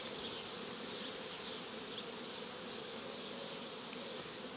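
Bees buzzing around a beehive in a crowded yard, a faint, steady, dense hum that continues without any break.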